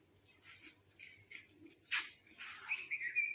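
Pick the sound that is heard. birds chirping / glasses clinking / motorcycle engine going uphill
birds chirping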